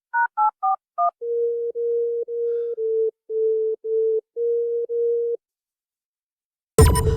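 A few quick dialing beeps lead into a steady, repeating telephone ring tone of about seven even pulses, then silence and a sudden burst of noise.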